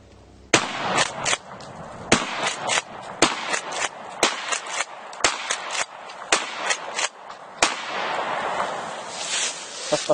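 A Remington gun fires a rapid string of sharp, loud shots outdoors to bring down a tree, the cracks coming in quick irregular succession and trailing into a faint echo after the last shot.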